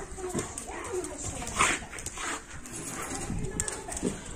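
A tall, large dog at a home in Hammamet, Tunisia, giving a few short barks and whimpers close by, mixed in with people talking over it.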